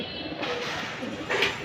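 Pigeons kept at home give soft, faint coos over a low background hum, with a slightly louder call near the end.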